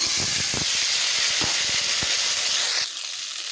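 Potato and jackfruit pieces hit hot oil tempered with dried chillies, bay leaves and whole cumin, giving a loud steady sizzling hiss with a few faint knocks that drops to a quieter simmer near the end.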